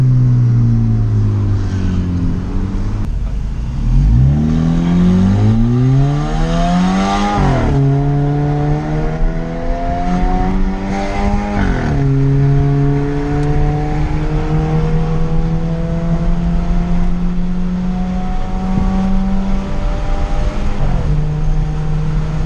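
A Jeep Compass Limited 2.0 with a stainless steel exhaust diffuser revving loudly and close, its engine note rising and falling through repeated climbs, with crackling pops from the exhaust as the revs drop.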